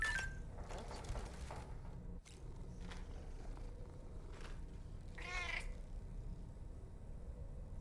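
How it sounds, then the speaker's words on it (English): A cat meows in the video game Death Stranding 2, with a few short calls over a steady low game ambience and no talking. "One more look at the cat."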